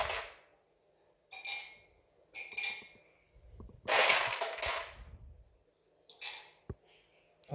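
Ice cubes are dropped into a glass while preparing iced honey hojicha milk with chia seeds and strawberries, giving several separate bursts of clinking and rattling with quiet gaps between them, close by.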